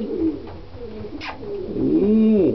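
Pigeons coo in a low, rolling series that swells toward the end, close and fairly loud, with a brief higher chirp in the middle and no talking.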